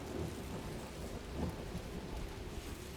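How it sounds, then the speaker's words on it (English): Rain pours steadily while low thunder rumbles and rolls underneath in a video game, a dense stormy wash without any speech. "Oh, thunderstorm."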